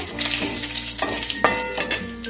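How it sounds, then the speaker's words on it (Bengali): A split bay leaf and a dry red chili fry in hot mustard oil with a steady, close sizzle and a few sharper crackles, while a faint tonal hum runs beneath. "দেখো তেলটা গরম হয়ে গেছে আমি একটা তেজপাতাকে দুটো করে নিয়েছি দিয়ে দিলাম একটা শুকনো লঙ্কা"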